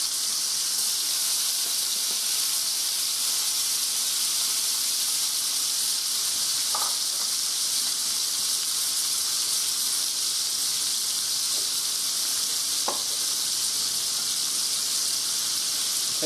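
Thin-cut pork chops sizzle steadily in a hot pan, a continuous close hiss of frying fat and steam with a couple of brief sharper pops, no talking.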